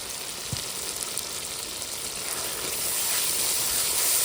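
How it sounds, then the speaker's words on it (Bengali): Masala spices sautéing in a hot pan, a steady broad sizzle that swells louder near the end, with one soft clink early on. "মশলা কষানো হয়ে গেছে"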